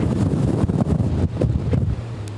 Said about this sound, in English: As another huge wind gust comes through here right now in Jacksonville.